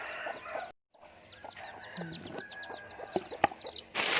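Chickens cluck and chatter close by while being fed, with a busy run of short, overlapping calls. A brief silent gap comes early, and a louder burst of noise arrives at the end.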